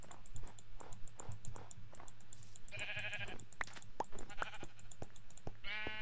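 Minecraft animal sounds: several bleating calls from farm mobs ring out in a blocky game world over soft background ambience, with light clicking between them and no talk.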